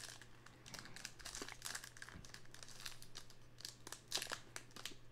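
A 2022 Topps Heritage baseball card pack wrapper being torn and opened up close, with quiet continuous crinkling and tearing over a low steady hum.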